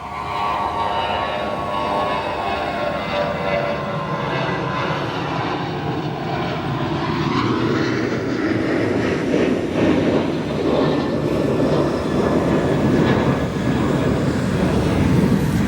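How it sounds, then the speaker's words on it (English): Boeing 737 jet departing O'Hare airport, a loud sustained engine roar that builds and stays broad and steady throughout, with no talking. "As we let that 737 depart"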